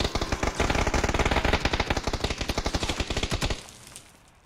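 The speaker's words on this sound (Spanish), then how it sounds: "¿Quién dispara, Kazurriskis?" Rapid bursts of automatic gunfire in the video game PUBG rattle loudly for several seconds, then stop abruptly, leaving a brief quiet tail.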